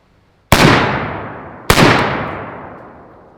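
Two loud, close gunshots from a Zastava M85 rifle fitted with an LMT Ion 30 suppressor, spaced about a second apart, each with a sharp crack and a long decaying tail.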